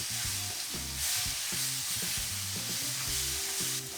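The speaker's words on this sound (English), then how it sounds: "Now since my pan's getting so full, I think I'm going to start stirring." Food sizzles steadily in a crowded frying pan while a utensil stirs through it, giving a continuous close hiss with broken bursts of scraping and clattering and no talk.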